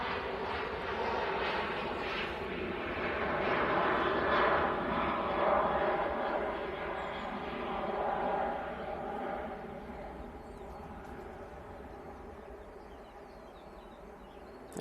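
Emirates Airbus A380 touching down gives a sustained jet roar that swells to a peak mid-way then slowly fades, heard from a distance with a faint hiss trailing at the end.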